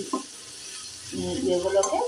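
Spices are stirred into onion and tomato in a hot pan for mustard greens, with a continuous close sizzle and a swell of scraping, stirring noise near the end.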